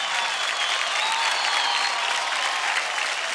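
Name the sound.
audience applause on a dance show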